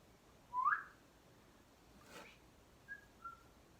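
A painter working in a Bob Ross style whistles softly: a rising whistled note, then a faint brushy swish, then two short quiet chirps, all sparse against a hushed background.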